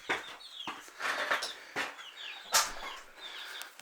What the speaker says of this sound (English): these are barred rocks